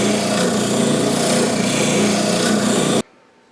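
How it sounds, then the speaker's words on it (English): An oscillating spindle sander abrading the inside of a hole in a wooden wine bottle stand, a loud steady rasping hum for three seconds that cuts off abruptly. "Top right now is the oscillating sander."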